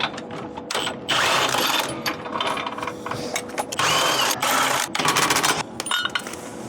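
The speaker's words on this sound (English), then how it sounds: "You're going to need a 21mm socket here and a 22mm spanner. And just undo these 4 bolts." Bolts on a Mars caravan hitch being undone with a 21mm socket and 22mm spanner: steady ratcheting and clicking metal work, fairly loud and close, with bursts of rapid mechanical chatter and no talking.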